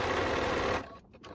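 A sewing machine runs steadily while stitching an elastic casing on a handkerchief skirt, a continuous close mechanical whir that stops abruptly near the end, leaving only faint rustling.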